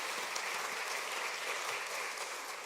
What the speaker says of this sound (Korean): 우리 수고하는 교사분들에게 박수로 한번 응원해 주셨으면 좋겠습니다